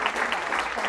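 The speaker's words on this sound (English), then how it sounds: "y'all give her a round of applause." A brief burst of audience applause at a talk on cut flowers, moderately loud scattered clapping from a small crowd, heard alone for under a second.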